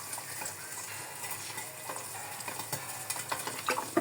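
Fish frying in hot oil for fried fish paksiw: a steady, faint sizzle with sharp crackles and pops that grow more frequent toward the end, heard alone without talk.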